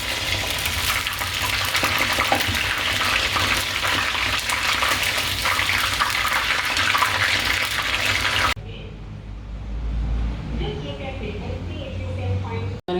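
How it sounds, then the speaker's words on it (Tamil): Chicken pieces for Indo-Chinese dragon chicken deep-fry in oil with a dense, loud, bubbling crackle that cuts off abruptly, leaving a quieter, softer sizzle and background murmur. "இந்த மாதிரி எல்லா பீஸையும் வறுத்து எடுத்து வச்சுக்கலாம்"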